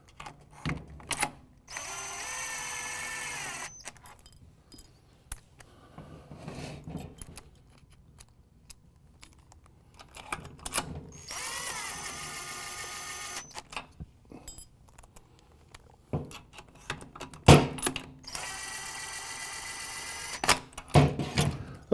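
A power tool runs down the tail housing bolts on a transmission in bursts, a whirring drive that starts and stops several times, with quiet metallic clicks and handling noises between runs.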